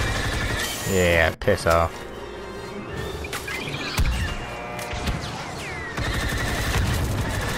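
Gunfire rattles through a Star Wars Battlefront 2 battle in loud rapid bursts and scattered shots, mixed with blasts, while someone talks over it briefly.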